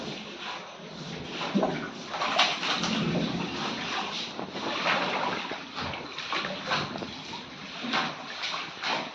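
Floodwater splashes and pours continuously nearby as it enters a house through the tin roof sheets, an uneven sloshing rush with irregular surges, heard without any talking.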